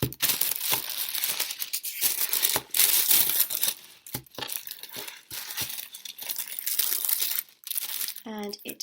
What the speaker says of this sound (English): Okay, so we've got the tissue paper here